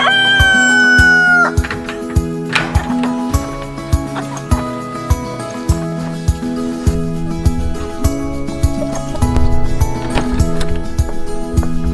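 A rooster crows loudly at the start, then chickens cluck and squawk steadily nearby, with rhythmic knocking and shuffling sounds underneath.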